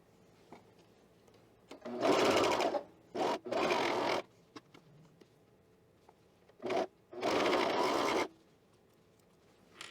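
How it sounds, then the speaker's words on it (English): Sewing machine stitching the facing shoulder seams of a Brattle Top, running in a few loud whirring bursts of one to two seconds with quiet pauses and small handling noises between them. "now we're gonna sew our facing shoulders"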